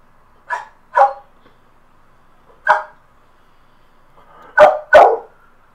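A dog barks five times in short bursts indoors, two single barks, a pause, another bark, then a quick closing pair, fairly close and loud with no talking.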